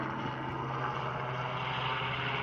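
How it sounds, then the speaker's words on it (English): A helicopter passes overhead, a steady, continuous engine and rotor drone that holds at an even loudness throughout, with no talking. "Got a helicopter."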